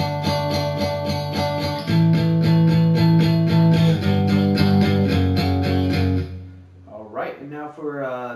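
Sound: electric guitar pre-chorus

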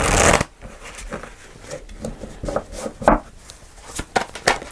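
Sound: shuffling tarot cards

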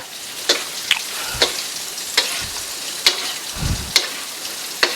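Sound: salmon belly frying in hot oil

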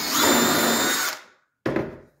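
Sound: power drill driving a screw into a wall stud

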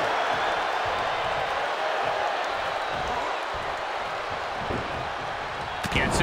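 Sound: arena crowd cheering at WWE Royal Rumble

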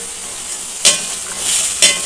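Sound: potatoes frying in oil being stirred

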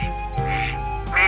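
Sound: ducks quacking at a duck decoy

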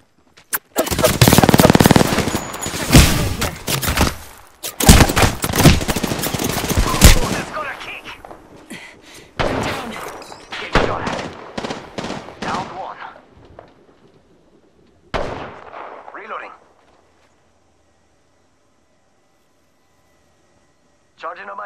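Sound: gunfire from an Apex Legends video game fight

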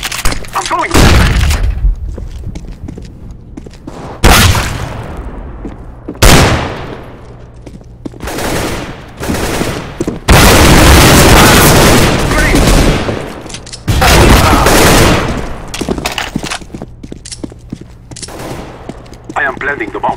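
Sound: grenade, smoke and flashbang thrown in shooter video game

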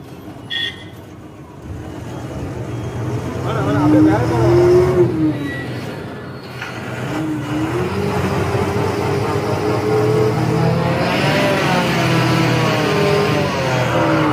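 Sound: truck engine revving, failing to reverse on Dhimbam hills

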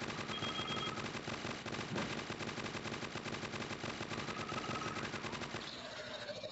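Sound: rapid-fire gun shooting in video game Crossfire: Legends

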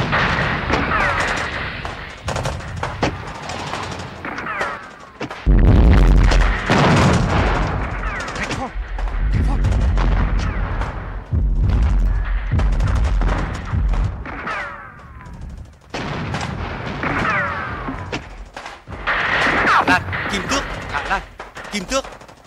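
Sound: continuous gunfire and artillery overhead

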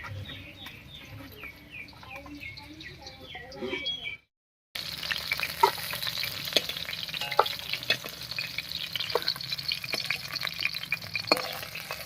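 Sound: rui fish pieces frying in oil

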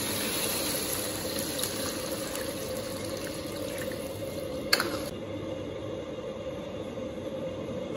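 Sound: water being poured into a cooking pot

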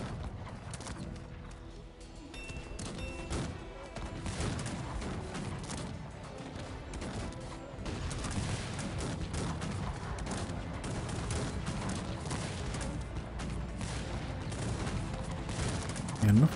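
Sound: battle gunfire and multi-barrel cannons in video game Cossacks 3

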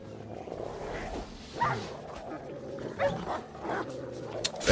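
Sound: alghoul monsters snarling in The Witcher 3 video game

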